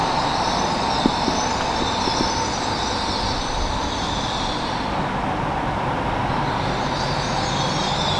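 A steady rumble of a train at Evesham station fills the air, with faint clanks and a low mechanical drone, continuous and moderately loud, no voices.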